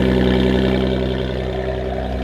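A Lotus with a supercharged V6 and manual gearbox sits running, its exhaust giving a steady, fairly loud engine drone that holds even throughout with no clear revving.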